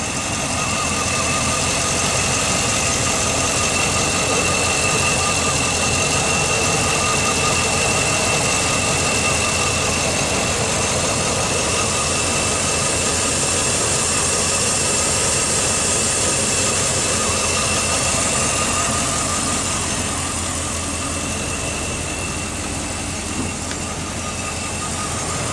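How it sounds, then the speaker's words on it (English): A Ford F150 pickup engine, said to run on HHO hydrogen and oxygen made from water, idles steadily and smoothly for the whole stretch, a constant close rumble with no talk over it. "The vehicle is still running pretty smooth."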